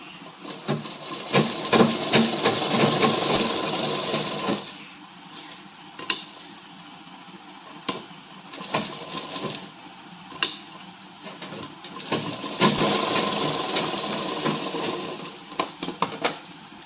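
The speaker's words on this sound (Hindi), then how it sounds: "इसको खोल कर बिल्कुल इस तरह से दोनों ओर से सिलाई मारेंगे।" A sewing machine stitches both sides of an Afghani salwar in two bursts of fast, close whirring rattle separated by quieter fabric handling and scattered clicks.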